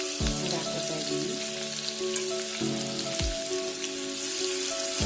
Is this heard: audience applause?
no